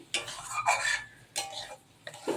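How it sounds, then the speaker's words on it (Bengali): Spice paste frying in a pan for fish kalia with potatoes, stirred with a spatula in a few close, scraping sweeps over a soft sizzle. "আমি ভালো করে একটু মশলাটাকে কষিয়ে নিচ্ছি"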